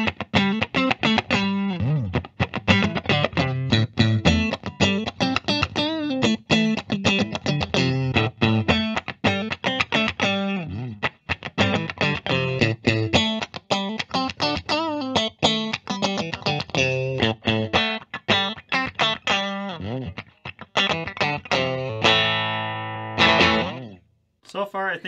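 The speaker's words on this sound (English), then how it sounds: "plug it in, and hear how it sounds." Clean-ish electric guitar riffing on the neck pickup of a 1996 Fender Custom Shop Stratocaster, chords and single notes strummed continuously and played up close, with a brief pause near the end.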